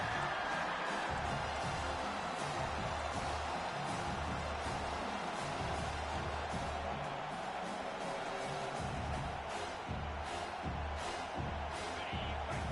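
A home crowd at an NCAA football game roars steadily on a third down, a dense sustained wall of cheering and noise with no pauses, loud throughout.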